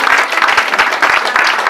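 Church congregation applauding to acclaim God, a dense sustained burst of many hands clapping with a few voices mixed in, loud and close, continuous throughout.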